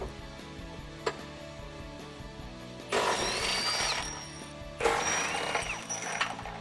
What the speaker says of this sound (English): For this install, we used a deep 18mm socket and an impact gun.